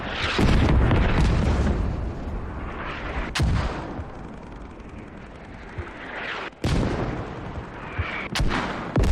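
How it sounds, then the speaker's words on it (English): Mortar shelling in a tank battle game: repeated heavy booming impacts, loud and close, with several sharp blasts cutting through a continuous rumbling barrage and no talk. "Started pounded by mortars"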